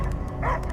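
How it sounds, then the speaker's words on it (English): A dog barks in the video game Marvel's Guardians of the Galaxy, one quick bark rising over a dense, rumbling game soundscape. "I hear only barking."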